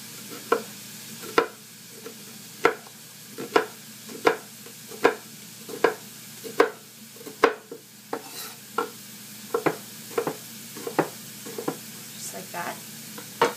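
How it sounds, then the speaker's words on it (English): Knife chopping red onion on a cutting board: about twenty crisp, close knocks in a steady rhythm, briefly paused and then resumed a little faster, over a low kitchen hum with frying sizzle in the background. "I am going to just chop up some red onion"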